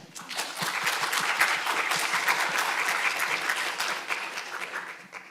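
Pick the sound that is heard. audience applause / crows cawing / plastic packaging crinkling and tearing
audience applause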